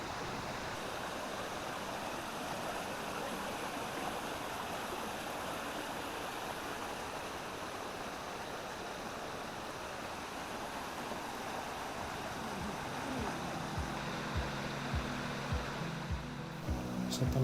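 Steady rush of a clear mountain stream flowing beneath a bamboo bridge below a waterfall on a hiking trail, a continuous broadband wash close by, with a few low knocks toward the end.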